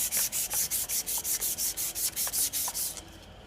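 Rhythmic back-and-forth sanding scrapes on a rusty metal spindle of a Cub Cadet mower, about a dozen even strokes, close and steady, then stopping.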